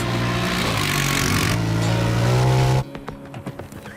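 A Honda Pioneer 1000 Deluxe Crew utility vehicle engine roars steadily at high revs, then cuts off abruptly, leaving quieter mechanical rattles and clicks.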